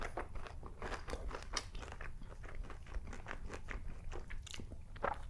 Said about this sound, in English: Gotta take a chicken bite real quick.